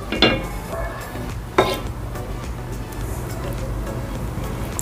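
Egg halwa being dished out from a pan, with two sharp scraping clanks of a spoon against metal and a low steady background hum.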